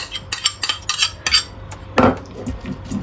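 Canned tuna and hard-boiled eggs are mixed with a metal utensil for empanada filling, giving a quick run of clinks and scrapes against the bowl, then a few heavier knocks.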